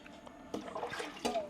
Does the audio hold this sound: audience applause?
no